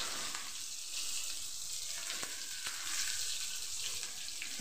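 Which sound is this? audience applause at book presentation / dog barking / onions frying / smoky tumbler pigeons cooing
onions frying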